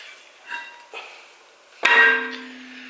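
Hammer striking out the inner bearing race on a Toyota Land Cruiser 80 Series rear hub: a couple of light taps, then one sharp metallic clang that rings briefly, close up with no talk.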